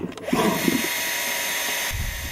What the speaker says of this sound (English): Okay, Angie, where's the drill?